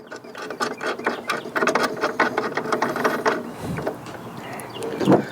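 Ratcheting clicks and mechanical turning from a nut being tightened on a bolt while installing a swing-case truck tool box on a Ford F-150. The clicks come close and fairly loud in quick irregular bursts, with no talking.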